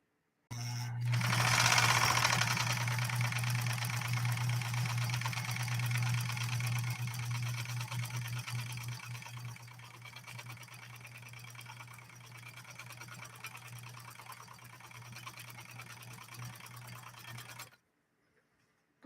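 A Pfaff 130-6 sewing machine stitches in one continuous run, a steady mechanical whirr with a strong low hum and fast rhythmic needle clatter, loudest at the start and easing slightly before it stops abruptly.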